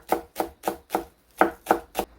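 Knife chopping green onions finely on a board for Korean meat patties, seven crisp, evenly spaced chops close to the mic with a short pause midway, no voices.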